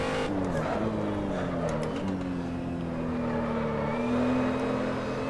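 Racing car engine in Assetto Corsa, on the Nürburgring Nordschleife, droning steadily with a rising, falling engine note that shifts through revs, loud and continuous with no talk over it.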